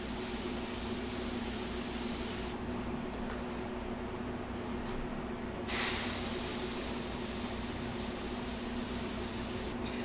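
An airbrush lays a quick dark dusting of paint while painting hair, giving a continuous loud spray hiss over a low steady compressor hum, with the airflow cutting and changing a couple of times.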